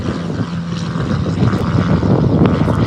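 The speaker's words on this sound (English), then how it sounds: "As the plane is overhead," A propeller-driven airplane flies overhead, its steady, broad engine drone filling the scene at close to moderate distance without any talking.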